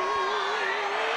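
A packed gym crowd at a boys' regional championship basketball game roars in a sustained, loud cheer with whoops, steady and dense throughout.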